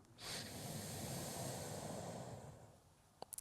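A single long, airy inhale through the nose during a morning breathing and stretching exercise, steady for about two seconds and close to the mic, then fading out, with a few soft clicks right after.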